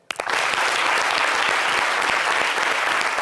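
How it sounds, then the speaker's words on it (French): A studio audience on a talk show breaks into loud, sustained applause, many hands clapping together in a dense, even roar that starts abruptly and carries on without a voice over it. "Ça s'applaudit."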